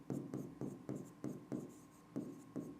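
Pen strokes scratch out an electrostatics equation by hand, a run of about eight short rhythmic scrapes, close and fairly quiet, with no talking over them.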